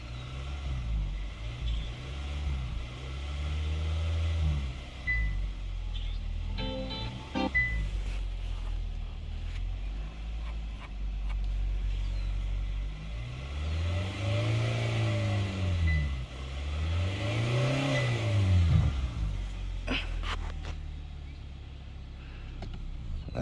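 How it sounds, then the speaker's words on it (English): A 2022 Kia Sorento, raised on a lift after an oil change, idles with a low, steady engine rumble. Close voices speak over it, and a couple of rising and falling surges sound like passing vehicles or revs. "We'll let it idle for a minute"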